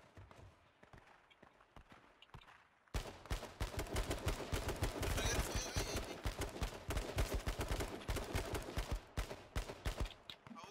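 Rapid bursts of gunfire in the battle royale video game H1Z1 King of the Kill, a quieter stretch of scattered shots giving way to loud, dense sustained firing, with no clear talk over it.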